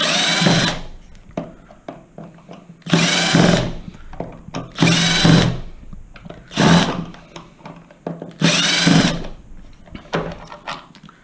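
A power drill backs out four screws from a gearbox mounting bracket on a Zip X5 unit in short, loud whirring bursts separated by pauses, with faint clicks and handling noise between them.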